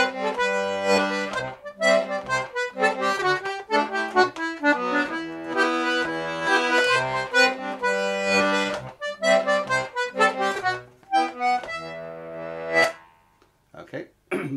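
D/G melodeon playing the A music of the tune Schottische a Bethanie, a lively bouncing dance melody with chords and bass, loud and close, played alone with brief pauses between phrases.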